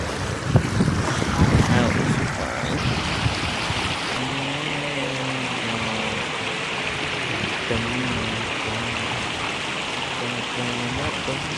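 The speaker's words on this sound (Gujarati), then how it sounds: "પાણીનો અવાજ જેવો આવે કે આપણે દરિયા ઊભા એવું લાગે." Water gushing out of a sluice gate in a village, a loud continuous rushing roar with some wind buffeting the microphone, stronger in the first few seconds, with a faint tonal hum underneath.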